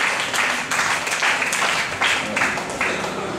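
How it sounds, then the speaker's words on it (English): A church congregation claps in praise, a steady broad patter of many hands with slight swells, fairly close and continuous, and no voices standing out. "Can we give the best clap of praise to Jesus?"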